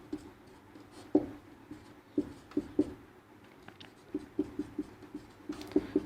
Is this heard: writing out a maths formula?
yes